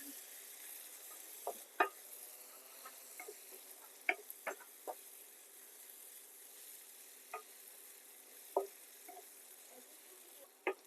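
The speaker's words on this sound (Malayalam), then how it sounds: "മസാലയുടെ പച്ച സ്മെല്ല് പോകുന്ന വരെ നമ്മളിതിങ്ങനെ സ്റ്റർ ചെയ്തുകൊണ്ടിരിക്കണം" Crab pepper masala paste sizzles faintly in a pan under a constant low frying hiss, while a spoon stirring it gives sparse soft scraping clicks now and then.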